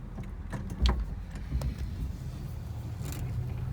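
A 1966 Chevrolet Caprice runs and drives along slowly, its engine a low, steady rumble heard from inside, with a couple of faint knocks and thumps over the drone.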